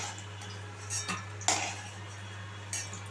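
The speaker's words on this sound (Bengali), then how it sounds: "আলুগুলো আমি এখানে একটা পাত্রতে তুলে নিচ্ছি।" Boiled potatoes being lifted into a pot for potato dopiyaza, heard as a few soft clinks and knocks of utensil against cookware over a quiet kitchen hum.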